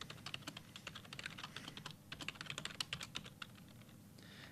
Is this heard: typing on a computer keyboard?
yes